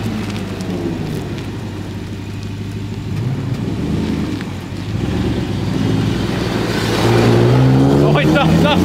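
A Toyota Tundra fitted with a long travel kit and 35-inch tires drives off on its first test run, its engine a steady loud rumble that rises toward the end, with road and tire noise around it.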